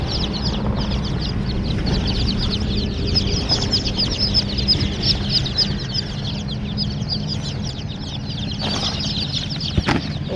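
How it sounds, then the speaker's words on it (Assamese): Local chickens and young chicks fill the air with a steady stream of cheeping and clucking, many birds at once and close by, over a constant low rumble. "এইটা মুরগি"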